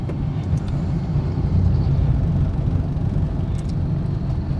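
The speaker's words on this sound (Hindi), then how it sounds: "देखिए गाड़ी वाइब्रेट कर रहा है" A car engine hums and vibrates steadily with low road rumble, a continuous droning noise from inside the vehicle moving on a highway.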